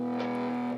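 Distorted electric guitar plays a sustained, buzzing chord from a riff, steady and loud for under a second with no voices.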